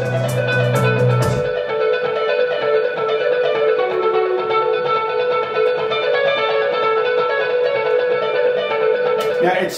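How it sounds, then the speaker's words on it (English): An electric guitar with reverb and a dotted-eighth stereo delay plays sustained, shimmering notes that echo and trail into a dense wash, loud and steady throughout. "it's got reverb on there, there's delay on there. The delay is basically just dotted eighths."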